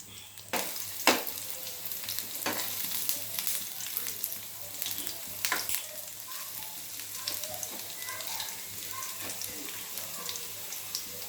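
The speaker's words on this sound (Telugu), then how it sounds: "ఇలా గరిటెతో కలుపుతూ వేయించుకోవాలి" Steady close-up sizzle of ginger pieces frying, with scraping stirs and sharp ladle clinks against the pan, continuing throughout without any talking.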